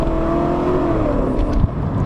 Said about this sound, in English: let's try a nice 20 miles per hour roll on